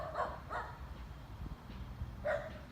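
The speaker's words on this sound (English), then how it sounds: "There's a dog barking at me now" A small dog near a railway gives three short, sharp, high yips at a moderate distance over a low outdoor rumble.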